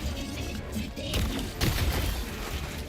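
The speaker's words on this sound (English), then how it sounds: "That explosion on that" Explosions in the video game Helldivers 2: a couple of loud booming blasts with crashing debris, one near the middle and a bigger burst just after, over a noisy combat backdrop.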